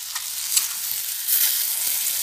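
Chopped citron for a sweet pickle hits a hot pan and sizzles: a bright, close, continuous hiss with small crackling pops and no speech.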